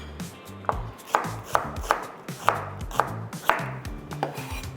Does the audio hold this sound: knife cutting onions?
yes